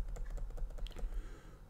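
Faint, quick taps of arrow keys on a computer keyboard while adjusting an image in GIMP, a short run of light clicks over a low background hum.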